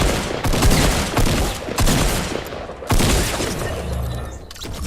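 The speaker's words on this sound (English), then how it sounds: "I hear the shots." Rapid bursts of gunfire in the battle royale video game Fortnite, several loud volleys of automatic and single shots crackling close by in quick succession, with no voices.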